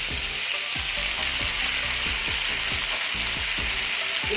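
Bitter gourd and potato fry in a pan with a green chili and mustard paste for a spicy korola jhal, giving a steady, close hiss. A spatula stirs through it with regular scraping strokes.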